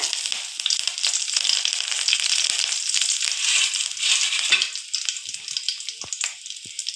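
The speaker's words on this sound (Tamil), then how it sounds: "எண்ணெய் ஹீட் ஆன அப்புறம் கடுகு கருவேப்பிலை" Mustard seeds and curry leaves frying in hot oil for a vendakkai kuzhambu, giving a loud, continuous close sizzle with scattered crackling pops and spits throughout.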